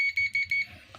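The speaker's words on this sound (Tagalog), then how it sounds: "Gamit po natin na continuity, buzzer lang po." A multimeter's continuity buzzer, used while testing an amplifier relay, sounds a quick run of short, shrill beeps up close before cutting off.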